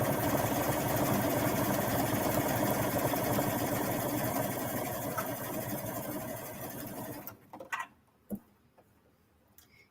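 A sewing machine stitching elastic onto a swimsuit runs in a fast, steady mechanical whir with rapid ticking for about seven seconds. It then stops abruptly, and a few soft handling knocks follow in near silence.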